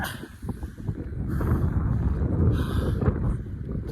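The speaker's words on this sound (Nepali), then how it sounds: "चिसो झन् त्यस्तै हावा चलिरहेछ" Cold wind blows in strong gusts on a motorcycle ride toward Kalinchowk, Dolakha, Nepal, buffeting the microphone with a low rumbling roar outdoors.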